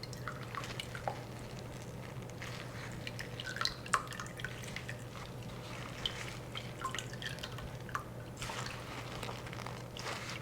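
Steady soft dripping and trickling of lavender oil through a strainer into a glass bowl, close and quiet, with scattered small drops over a faint background hum.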